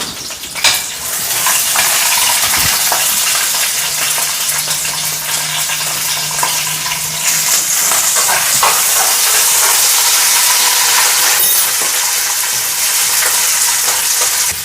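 Spices and green chillies fry in a pan for coconut mango chutney, making a steady, loud sizzle with scattered pops and occasional utensil clinks throughout.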